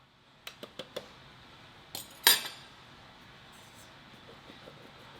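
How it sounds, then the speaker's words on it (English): A fork clinks against a bowl while mixing dry baking ingredients for a Vietnamese honeycomb cake: four quick light taps, then a pause and a sharper scrape-clink, close and otherwise quiet. "we'll go ahead and get a fork and go ahead and mix all of the dry ingredients here"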